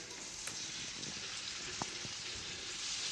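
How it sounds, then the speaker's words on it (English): Pork tenderloin searing in a hot skillet gives a steady, fairly quiet hiss with a few small crackles and pops scattered through. "We're going to drop them into a searing skillet already"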